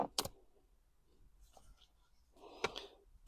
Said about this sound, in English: Have a little razor knife here. We're going to go ahead and very carefully cut a few of the stitches on the boot to widen it up.